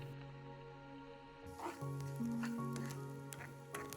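Onion and curry leaves hit hot oil in a pan for a spicy chickpea dish, and a soft, steady sizzle rises about halfway through and continues fairly faintly to the end.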